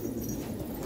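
Soft pigeon cooing, a low murmuring call held close for under a second with a faint hiss of room noise behind it.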